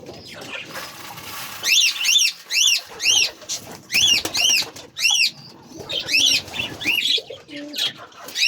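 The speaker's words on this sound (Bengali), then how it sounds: "এই যে দেখো আমাদের কবুতরগুলি আরো আছে আছে এখনো আসেনি" Pet pigeons in a coop, repeated close, rhythmic cooing calls in short bursts, with occasional rustling and wing movement in between.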